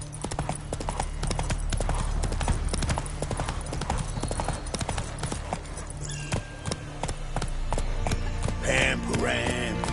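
Roach the horse galloping in The Witcher 3, a dense, rapid clatter of hooves on the ground, loud and continuous over a low ambient game bed, with a brief whinny-like flourish near the end.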